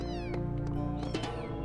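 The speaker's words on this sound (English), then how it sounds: "Kitty cat!" A cat in The Talos Principle meows twice in quick succession, close and clear above a steady, humming game-music drone, with no speech.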